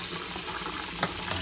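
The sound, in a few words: tap water running while rinsing Commodore PET circuit board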